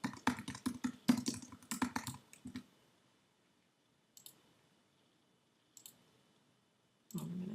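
Close, clicky keystrokes on a computer keyboard, a quick burst of typing followed by silence broken by a few isolated taps.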